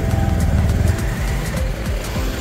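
A motorcycle engine rumbles loud and close, a low throbbing drone with uneven revving pulses as the bike pulls away from a car service workshop.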